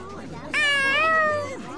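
A cat in the Tales of Xillia 2 video game gives a single clear, drawn-out meow, loud and close, with a rising then falling whine after a brief quiet lead-in.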